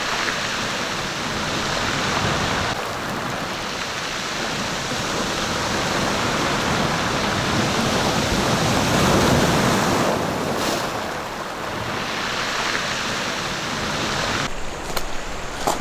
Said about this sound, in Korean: 대단한 파도의 기세에 움찔했습니다.